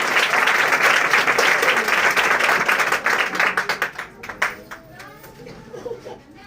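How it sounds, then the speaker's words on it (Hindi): A church congregation gives loud, dense applause that thins into scattered individual claps toward the end, with a few voices and light laughter mixed in. "उस जिंदा खुदावंद के लिए फिर एक मर्तबा ताली बजाएं।"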